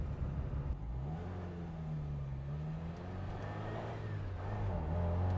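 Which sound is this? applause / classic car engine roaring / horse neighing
classic car engine roaring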